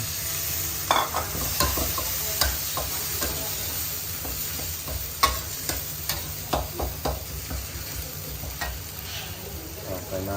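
Shallots stir-frying on high heat with a splash of water: a loud continuous sizzle and hiss with repeated clattering stirs and scrapes of a utensil in the pan, close up.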